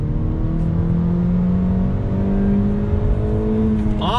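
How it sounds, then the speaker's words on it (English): A 2020 Honda Civic Sport sedan with a 6-speed manual accelerates on throttle, its engine droning loudly and rising in pitch through a gear, heard from inside the cabin. "let's do a little on-throttle acceleration"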